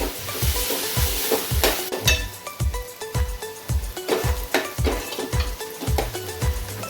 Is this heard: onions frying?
yes